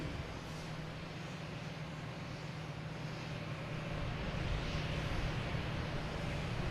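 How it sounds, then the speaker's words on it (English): Delta jet on runway 4 right at Boston Logan spooling up for takeoff, a distant, steady broadband roar with low rumble that swells slightly toward the end, no talking. "We'll hear the engines rev up."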